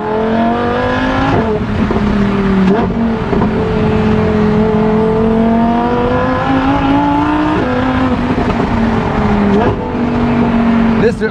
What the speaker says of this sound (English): This car screams.